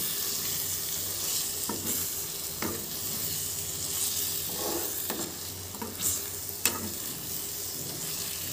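Spice paste frying in oil for chicken kasha, a steady close sizzle throughout with occasional scraping stirs of a spatula across the pan, no talking.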